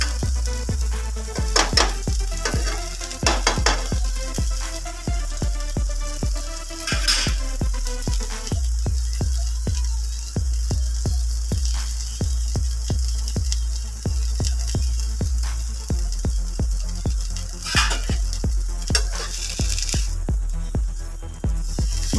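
Coriander leaves sauté in a pan for a coriander-leaf chutney, giving a continuous loud sizzle with rapid, rhythmic scraping strokes of a spoon stirring them throughout.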